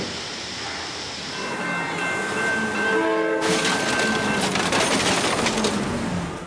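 Train striking a car at a level crossing in Brazil, heard as a loud, sustained rumble of rail traffic with a horn-like tonal blast, then a sudden broadband surge of noise from the impact that stays dense to the end.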